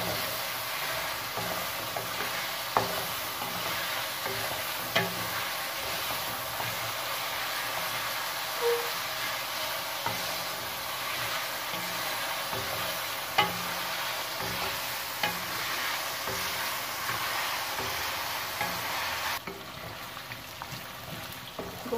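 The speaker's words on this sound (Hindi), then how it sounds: "पांच मिनट गोश्त को भूनेंगे इसमें।" Meat fries in a pan with a dense, even sizzle that runs throughout, with occasional faint stirring knocks and no talk.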